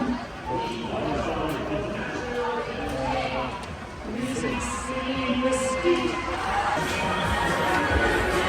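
A large audience at the WGI Percussion Championships finals roars and chatters continuously, a dense, steady wall of crowd noise with scattered shouts and cheers throughout.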